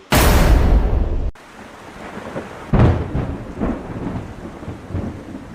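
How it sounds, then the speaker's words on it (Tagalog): Rain and a thunderstorm outside, a loud crack of thunder at the start giving way to a steady downpour with further rumbles rolling in the distance. "No! It's raining!"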